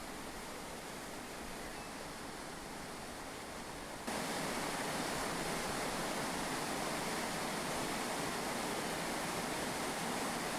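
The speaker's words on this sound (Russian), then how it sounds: "Необычный водопад Корбу даже на фото выглядит впечатляюще." The Korbu waterfall in the Altai mountains roars as a dense, steady rush of falling water that grows louder partway through and keeps going without a break.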